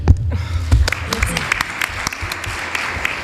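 An audience at the Blue Africa Summit, a conference on ocean issues, gives brief, somewhat sparse applause, individual claps standing out over a low room rumble and a few voices.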